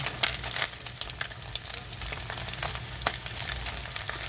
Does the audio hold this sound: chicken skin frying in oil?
yes